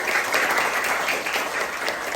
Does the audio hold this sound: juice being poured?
no